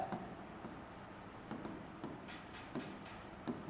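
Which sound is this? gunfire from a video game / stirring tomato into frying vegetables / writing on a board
writing on a board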